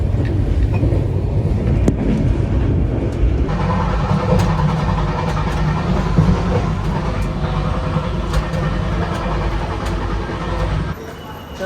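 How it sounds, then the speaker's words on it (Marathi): A train rumbles at Bandra Terminus, a heavy low rolling drone with clanking that persists throughout and fades slightly near the end, with faint voices in the background. "आपण पोचलो आहोत बांद्रा टर्मिनल्सला आणि हे बघा, ही आहे आपली ट्रेन"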